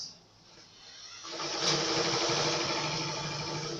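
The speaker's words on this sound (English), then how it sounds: "you lift the machine foot up, then you turn your fabric, then you sew on a straight line" Sewing machine stitching fabric along an angled line for a beginner garment construction lesson, starting quietly then running as a steady close mechanical whir with rapid needle rhythm.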